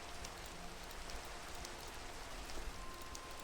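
Steady rain falls in the TerraFirmaGreg Minecraft modpack, a continuous soft hiss of many drops with a few slightly louder patters, quiet and even throughout, with no voices.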